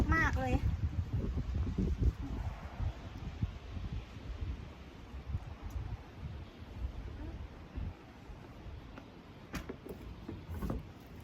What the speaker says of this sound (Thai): ลมอย่างแรงเลยจ้ะ